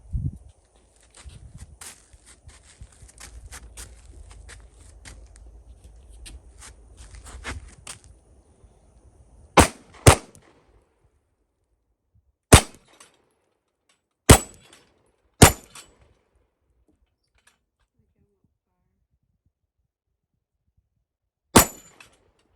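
Several sharp, loud Smith & Wesson M&P Shield 9mm EZ pistol shots ring out one at a time with long gaps at an outdoor range, after a stretch of faint rustling and handling noise.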